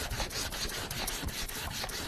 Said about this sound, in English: You can sand off the writing.